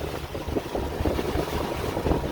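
A Lagoon 42 catamaran motoring at sea at night on one engine, crossing the Gulf of Mexico: a steady low rumble of engine and hull noise mixed with constant wind buffeting, continuous throughout with no talk.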